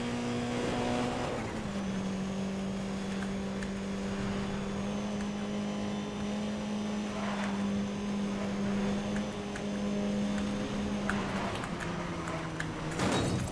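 A car engine in Need for Speed: Most Wanted (2012) drones steadily at high speed, a sustained racing whine with small pitch shifts as it accelerates, loud and continuous with no talk over it.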